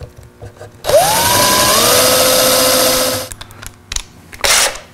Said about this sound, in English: Then we're going to drill a couple of pilot holes